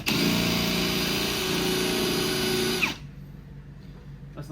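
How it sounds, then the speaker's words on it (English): An electric drill bores into the lock on a tow bar of a car, a loud high-pitched whine running steadily for about three seconds before cutting off, followed by quiet rattling. "So I'm going to try and drill the lock out."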